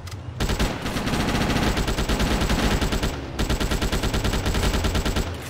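Sustained automatic fire from an AK assault rifle in the video game GTA Chinatown Wars, a loud rapid rattle of shots running almost continuously after a brief pause and stopping near the end, no voices.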